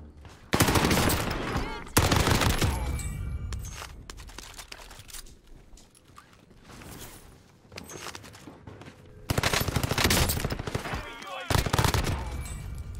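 Gunfire from the Call of Duty game, Rebirth Island mode, with a PPSh submachine gun, comes as loud bursts of rapid automatic fire with quieter stretches between them and game ambience throughout.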